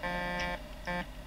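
Scania truck horn in Euro Truck Simulator 2 sounding twice, two short loud tonal honks separated by a brief gap over low engine rumble.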